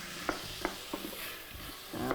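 Chickpeas simmer in tomato coulis in a pan, stirred with a few soft scrapes and knocks over a steady low sizzle, close and brief.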